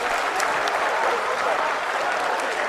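Sustained, dense applause from a crowd in a space agency control room as the Chandrayaan lunar lander module touches down softly on the Moon, steady and loud throughout with some voices mixed in.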